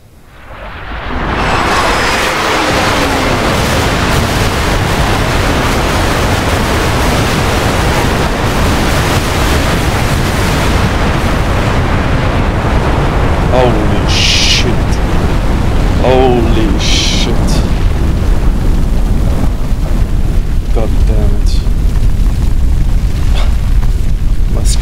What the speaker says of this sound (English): Commence planetary bombardment.